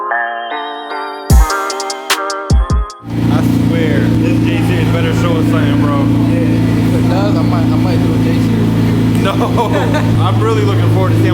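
Nitrous-fed J32A2 Honda Civic hatchback on a dyno: a few short blips and pops, then a loud sustained high-rpm engine roar that holds steady and sweeps in pitch, close up.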